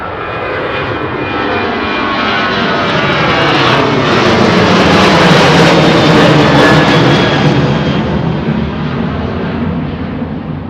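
A low-flying airplane passes overhead, its engine roar loud and continuous, swelling to a peak midway and easing slightly as it moves off, with no other sounds.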